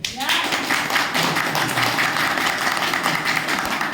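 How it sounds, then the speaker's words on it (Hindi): An audience at a small direct-selling meeting in Gurgaon claps steadily in a dense, close burst of applause lasting a few seconds. "बताओ एक बार जबरदस्त तालियां।"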